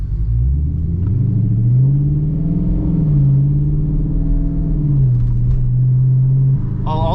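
Deep, booming exhaust note from a car with a new loud aftermarket exhaust as it accelerates, pitch rising and dipping through shifts, steady and close throughout.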